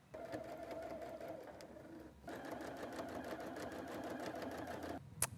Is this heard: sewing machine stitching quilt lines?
yes